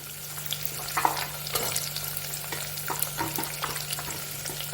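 Green beans, carrots and chillies stir-fried in a pan over low gas, with a steady soft sizzle and scattered scraping stirs, close and alone without talk.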